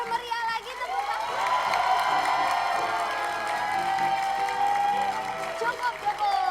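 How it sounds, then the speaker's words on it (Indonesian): A television talk-show studio audience bursts into lively applause mixed with cheering and whoops, rising quickly and holding loud and close before easing slightly at the end. "Boleh lebih meriah lagi tepuk tangan."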